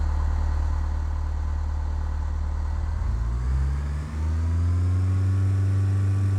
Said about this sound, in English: apply full power with the throttle or by pressing F4